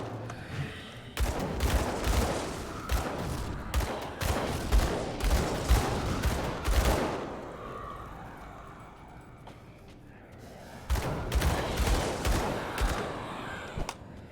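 Pistol volleys fired in the video game Grim Dawn: rapid bursts of sharp gunshots come in dense clusters, pause while a faint tone hums, then another quick flurry of shots follows.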